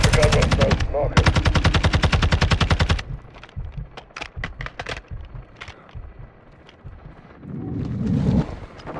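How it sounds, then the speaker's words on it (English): Loud bursts of belt-fed machine gun fire in Call of Duty: Modern Warfare II, two long rapid volleys up front followed by scattered single shots and crackling impacts, then a rumbling swell near the end. "Taking belt fed fire from beneath the tower"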